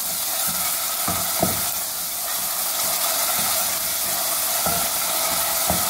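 Chopped onions fry in a pan for a potato egg curry, sizzling steadily and loudly up close, while a spoon stirs and scrapes them in several distinct knocks through the frying hiss.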